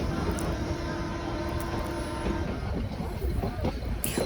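Passenger train rolling through short tunnels, a steady dense rumble with broad rushing noise throughout and faint metallic squeals on top, close and continuous, no talk.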